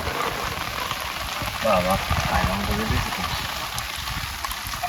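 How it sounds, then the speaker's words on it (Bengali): Heavy rain pours at night in the Sundarbans during a fishing trip, a continuous close hiss of drops. A voice speaks briefly partway through. "বৃষ্টি কিন্তু পড়ছে খুব"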